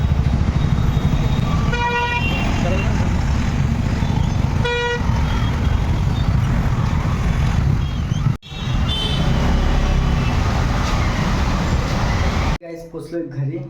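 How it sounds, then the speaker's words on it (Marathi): Busy road traffic in Panvel, with car horns honking repeatedly over a steady roar of engines and passing vehicles, loud and close throughout. "पनवेलची ट्रॅफिक."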